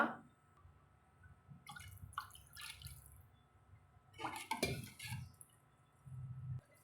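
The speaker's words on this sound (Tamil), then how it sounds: "இன்னுமே கொஞ்சம் நம்ம தண்ணி சேர்த்துக்கலாங்க" Water is poured into a pot of thoothuvalai and mudakathan leaf rasam in a home kitchen, heard as two short bursts of splashing and dripping with a light clatter of utensils against a quiet background.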